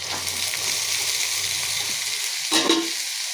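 Onion, green chillies and a little whole-spice tempering sizzling in hot oil for a potato and okra stir-fry, a steady bright hiss with a brief louder splutter near the end.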